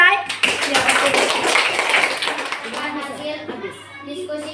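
Pupils in a classroom burst into a short round of applause, dense clapping that fades after a couple of seconds, with children's voices mixed in.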